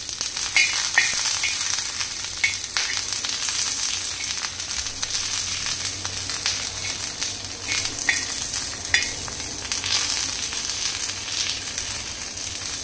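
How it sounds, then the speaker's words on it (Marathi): Green chillies roasting in a pan for a drumstick curry, a loud, continuous crackling sizzle heard up close, with occasional spattering pops and faint stirring scrapes throughout. "हिरवी मिरची ही दोन्ही बाजूने व्यवस्थित अशी भाजून घ्यायची आहे."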